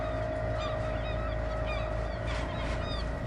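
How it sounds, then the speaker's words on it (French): Constant low droning hum of boat propellers and engine, steady and loud throughout, with faint gull-like cries above it in a children's story sound effect. "On n'entend plus que le bruit des hélices et le cri des mouettes."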